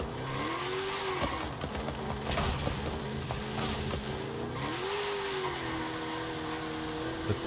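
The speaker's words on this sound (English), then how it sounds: "That launch control is not letting me accelerate." In Forza Horizon 5, a car engine drones and revs under launch control, its pitch rising and dipping as it accelerates, steady and fairly close, with faint tire noise and no talking.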